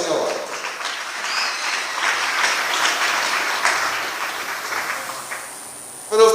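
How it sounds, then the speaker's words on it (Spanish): A church congregation claps steadily for the Lord during a sermon, a sustained round of applause that thins out near the end before a voice comes in. "¿Cuántos pueden dar un fuerte aplauso al Señor?"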